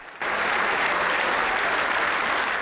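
Standing ovation in the US Congress chamber, dense sustained applause from a large crowd that starts abruptly and stays loud and even to the end.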